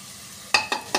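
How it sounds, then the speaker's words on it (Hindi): Masala spices frying in a pan over medium flame: a low, quiet sizzle followed by three sharp bursts of crackling as the spices are stirred and hit the hot oil. "मसाले हमारे इधर भून रहे हैं"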